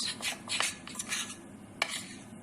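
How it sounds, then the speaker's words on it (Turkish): Walnut halva being stirred in a pan, a spoon scraping and clinking against the metal in quick irregular strokes with a sharper knock near the end, close and fairly quiet. "Sürekli karıştırmanız gerekiyor ki helvamız yanmasın."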